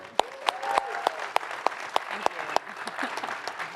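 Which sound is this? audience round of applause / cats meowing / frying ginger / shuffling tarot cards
audience round of applause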